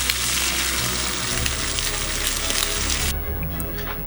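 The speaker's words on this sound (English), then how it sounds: "Oh, I can hear the steak sizzling." Steady, loud sizzling of steak frying in a hot pan, a dense crackling hiss that continues throughout with no voices.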